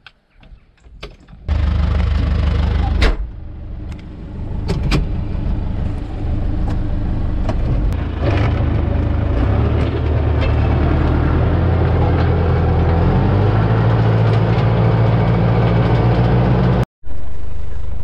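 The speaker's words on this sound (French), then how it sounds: "Je rentre dans le tracteur et on y met un coup de plus." A farm tractor engine starts up and runs while sowing soft wheat, a loud, close, steady low rumble that holds for the whole stretch after some brief knocks at the start, with a sudden short cut near the end.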